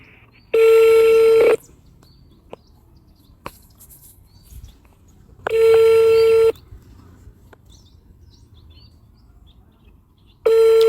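An outgoing phone call rings on the line, with three long, loud ringback tones spaced about five seconds apart and near silence between them, broken only by a few faint clicks.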